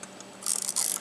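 The shutter-cocking mechanism of a Fujica 35 EE rangefinder camera is worked by hand, a faint tick followed by two short, close ratcheting bursts.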